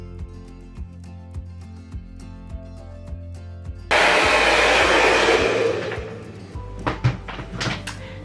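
Handheld hair dryer on its coldest setting switches on with a loud steady rushing blow for about two seconds, then eases off, amid clicks, thunks and cupboard-like knocks before and after.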